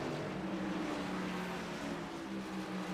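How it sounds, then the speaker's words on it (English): Race car engine in a sim racing game at Lime Rock, a steady droning whine with harmonic bands that shift slightly as the RPMs change, continuous and fairly loud with no talk. "You can hear the RPMs change"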